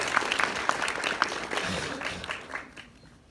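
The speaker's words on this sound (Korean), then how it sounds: "좋은 강의 해주신 황 회장님께 다시 한번 큰 박수 부탁드리겠습니다" Applause from a lecture audience for the speaker, a crowd of hands clapping steadily before thinning out and fading toward the end.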